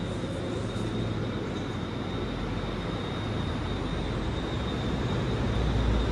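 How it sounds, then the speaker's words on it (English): Class 156 diesel trains departing for Kilmarnock, heard as a steady loud broadband rumble of moving rolling stock that builds slightly toward the end, with no talking. "these 156s are departing for Kilmarnock"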